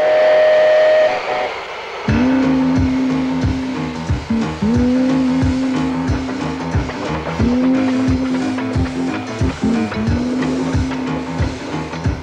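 A steam locomotive chugs loudly in a repeating mechanical rhythm, its cycles rising and falling, with no voices.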